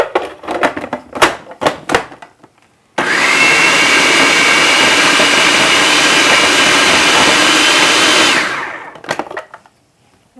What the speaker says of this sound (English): now I'm just going to mix it or pulse it until it's well incorporated